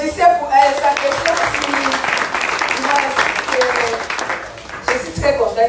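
Audience applause in a seminar room at a youth camp job-seeking session, a steady clatter of hands throughout while a voice talks over it.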